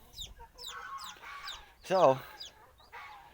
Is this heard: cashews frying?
no